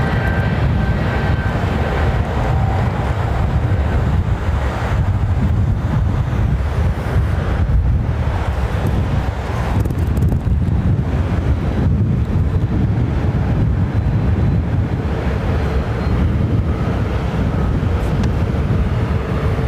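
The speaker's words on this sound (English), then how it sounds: "You can really hear those engines, man." Airliner jet engines, LEAP or Pratt & Whitney, roaring at Heathrow Airport in London, a steady loud rumble with wind buffeting the microphone throughout and no talk.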